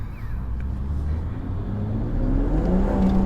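BMW 140i with a manual gearbox and new rear tyres accelerating, its engine note droning and rising steadily in pitch over a few seconds, heard from inside the car without talking.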